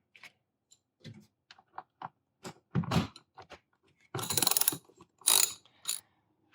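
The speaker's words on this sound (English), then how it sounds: "Next is loosening this bracket here. Again, this is a 10mm." Ratchet wrench loosening a 10mm bracket bolt on a 2000-2004 Toyota Avalon during starter replacement, heard as scattered close clicks and short bursts of ratcheting, with two louder rapid clicking runs near the end and no talk.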